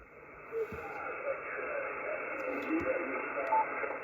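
HF single-sideband ham radio receiver audio: a steady band of hiss and static with faint warbling tones and brief pops drifting through, fairly loud and continuous with no clear speech.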